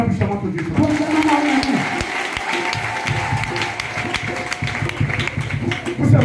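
An Easter church congregation applauds and cheers in acclaim of God, steady clapping under a speaking voice and crowd noise.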